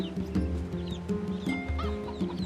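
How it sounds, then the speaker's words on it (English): A chicken clucks in the video game NieR Replicant, short repeated clucks in an uneven rhythm over a low, steady game ambience, fairly close but quiet. "He's got a chicken."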